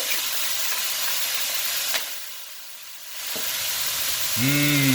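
Chicken and vegetable lo mein stir-frying in a pan with soy sauce and pepper, giving a steady broadband sizzle with scraping stirs and a brief dip, close and continuous, ending with a short tonal sound.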